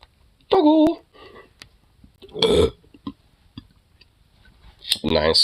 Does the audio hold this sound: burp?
yes